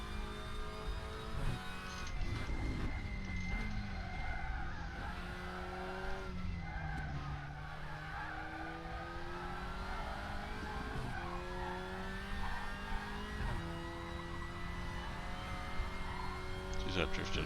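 A WTCR 2019 VW Golf race car in a sim racing game laps Ningbo circuit, engine droning and shifting pitch under continuous tire squeal as the car slides and drifts, someone talking over it.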